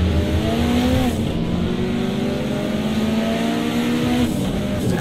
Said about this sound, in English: Listen to that big roar of the Nissan ahead.